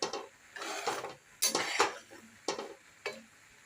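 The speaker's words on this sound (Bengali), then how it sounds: "অন্ধকারে পাস্তা রান্না সিদ্ধ হয়েছে, আর একটু হবে।" Pasta cooks in a pot in the dark, heard as a series of close, fairly quiet clinks and scraping stirs against the pot, spaced irregularly with no talk.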